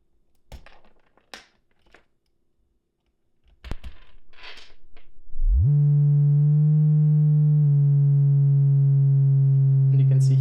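A steady synthesizer tone from an LFO patched to the pitch input on a Music Thing Modular Workshop Computer running the Flux card. It holds loud and sustained after a few short clicks and taps.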